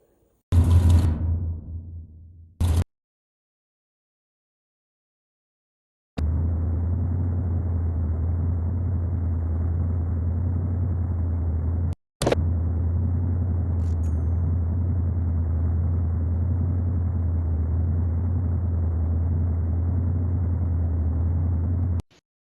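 A car engine runs with a steady, loud drone for two long stretches, broken by brief cut-outs and preceded by a short fading rumble.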